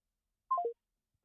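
A short burst of three quick descending telephone dialing tones sounds once, clear and isolated against silence.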